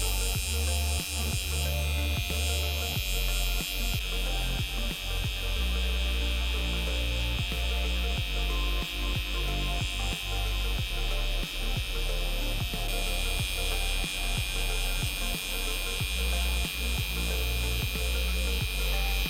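A permanent makeup tattoo machine fitted with a needle buzzes steadily and loudly for the whole stretch, a continuous electric drone with small flickers of pulsing, used for a powder brow cover-up.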